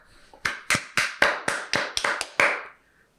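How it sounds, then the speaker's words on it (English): A single person claps hands about nine times in an uneven rhythm, sharp and close, alone with no talking, ending with a short quiet tail. "Round of applause for Chris."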